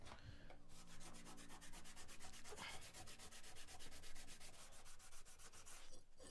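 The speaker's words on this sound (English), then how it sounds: "now let's try a Scotch-Brite pad" A Scotch-Brite pad is rubbed briskly back and forth over a forged steel plate, producing a fast, regular scrubbing rhythm that is faint but steady and heard alone.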